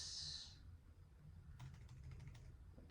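Soft, rapid keystrokes on a computer keyboard clatter in a quiet room, a run of light taps with no talking.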